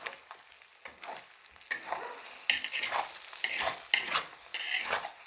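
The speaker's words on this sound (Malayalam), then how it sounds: "ഇത് നല്ലോണം ഇളക്കി കൊടുക്കാം" Masala chicken fries in a pan while it is stirred, with a steady sizzle. Repeated scraping stir strokes rise and fall in loudness, close by.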